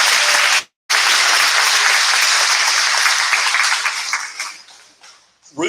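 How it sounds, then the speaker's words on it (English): At a school board town hall meeting, the crowd bursts into loud sustained applause after a brief pause, then the clapping thins and fades out near the end. "Give him a clap."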